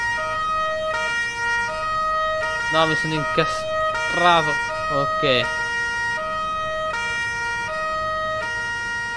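Emergency vehicle sirens in the Farming Simulator 19 video game sounding a steady repeating two-tone wail, loud and close, while someone talks in Italian over them.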